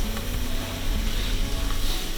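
Onions frying in a pan over a multi-fuel MSR Whisperlite camping burner inside a snowy winter tent, giving a steady soft sizzle with a low burner roar underneath, constant and close.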